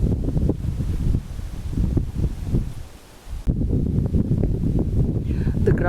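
Strong wind buffets the microphone in a Kent meadow in July, in loud rumbling gusts, briefly easing before surging again, with faint rustling underneath.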